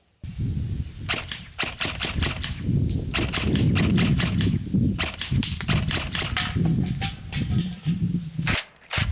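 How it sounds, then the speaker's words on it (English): A Sig Sauer Virtus airsoft gun firing 6mm rounds on semi-auto, a long run of sharp, close snapping shots in quick irregular succession, loud and dry, with no talking over them. "All right, we got the SIG right here. I'm gonna pop off a few semi-auto rounds."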